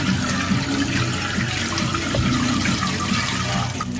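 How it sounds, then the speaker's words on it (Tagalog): Water poured into a pot of simmering mung bean stew with vegetables and pork cracklings, a steady continuous splashing pour that runs unbroken for the whole stretch, close and fairly loud. "Lalagyan ko rin po ng tubig para magkaroon ng sabaw."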